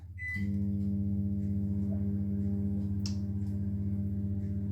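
A kitchen microwave oven is set and started: a short beep, then a steady low electrical hum and whir that runs continuously, with a faint click partway through.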